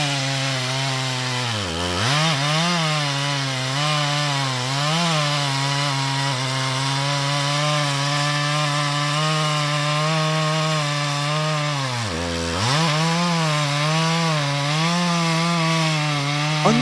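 A chainsaw cuts into a 600-year-old tree, its engine droning steadily and close with pitch dips around the second and twelfth seconds as the chain bogs into the wood, running alone without voices.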